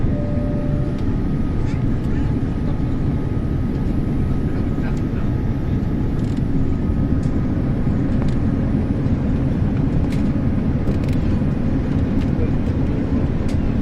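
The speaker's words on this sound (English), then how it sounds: "We are on a final descent to Kempegowda International, Bangalore." Cabin of a British Airways Boeing 787-9 on final descent into Kempegowda International, Bangalore, heard as a loud, steady, low engine and airflow roar that holds without a break, with no talking.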